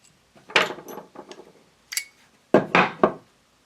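Small metal clicks and taps ring out as a pin is worked out of a Stag 15 tactical rifle, with a few sharp, close knocks spaced across a quiet tabletop setting.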